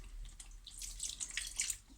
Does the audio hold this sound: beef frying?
no